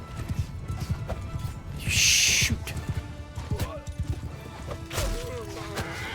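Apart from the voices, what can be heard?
horse galloping in Mount & Blade II Bannerlord video game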